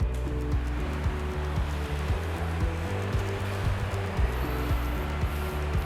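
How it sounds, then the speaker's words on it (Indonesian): A car air-conditioning refrigerant recovery machine running, giving a steady motor hum with a broad hiss over it and faint rhythmic ticking, continuous and fairly close throughout. "Hidupkan mesin recovery."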